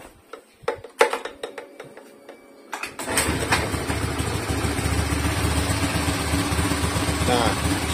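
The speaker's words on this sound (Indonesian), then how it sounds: "Kita hidupin motornya dulu." A motorcycle running Castrol Power 1 Ultimate oil: a few sharp clicks and ticks, then the engine fires up about three seconds in and settles into a steady, smooth idle that stays close and even to the end.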